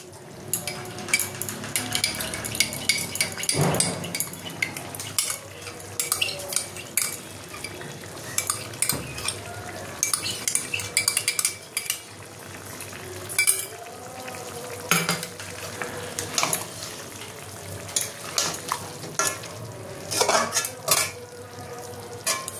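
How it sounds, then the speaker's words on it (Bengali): Spoon scraping and stirring through chicken with yogurt and spices in a sizzling pan, with repeated clinks and scrapes in an irregular rhythm over a continuous frying hiss. "আমি এটা ভালো করে নেড়ে দিয়েছি।"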